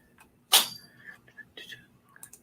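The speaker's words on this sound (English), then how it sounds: "Cat sneezing over there." A cat gives a single sharp sneeze indoors, close and loud, followed by faint whispered talk.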